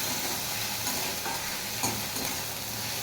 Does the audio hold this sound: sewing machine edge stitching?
no